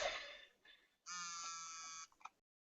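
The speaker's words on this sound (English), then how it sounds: "Somebody's cell phone is buzzing." A cell phone buzzes in a room during a group meeting, giving a short tonal burst, then a longer loud buzzing tone lasting about a second, followed by a few brief clicks before quiet.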